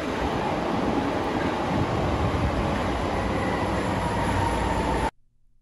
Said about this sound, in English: Now I'm seeing when the train to Chinatown's gonna come.